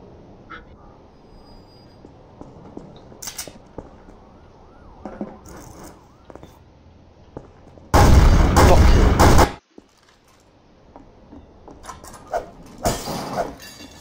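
Loud burst of automatic gunfire in a Garry's Mod Trouble in Terrorist Town round, shot at a window, lasting about a second and a half, then a second shorter volley, with quieter game clatter in between.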